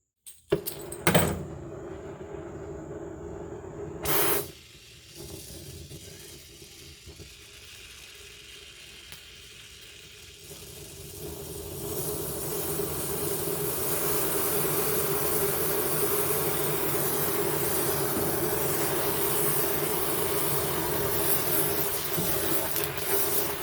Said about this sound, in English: I will turn off my gas and use it as a poor man's cutting torch and just blow the whole top of this bolt off